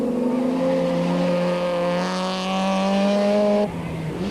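A Ford rally car runs flat out on a short, tricky special stage, its engine note rising steadily in a loud, close, sustained drone before easing off at the end.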